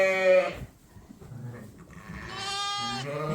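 Lambs and a ewe bleat in two loud, close calls separated by a quieter stretch, with farm background noise and no talking.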